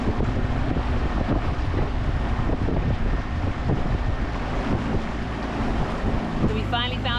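A small dinghy motoring across Snug Basin produces a steady engine drone mixed with buffeting wind and splashing water, with a brief higher-pitched sound near the end.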